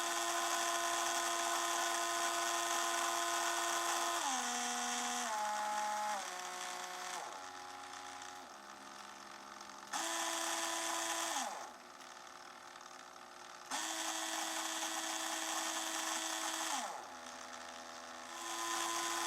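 A small DC motor under PWM speed control whines with a high electronic tone, stepping down and back up in pitch and loudness as the speed changes repeatedly, close and alone.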